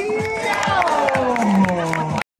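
At the 2024 bike festival in Riva del Garda, a crowd cheers and whoops loudly, with scattered clapping beneath a rhythmic pulsing sound and some voices rising over it.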